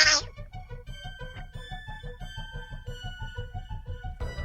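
A human voice imitates a cat, giving a quick run of repeated, evenly spaced meows in a steady rhythm, close and fairly soft.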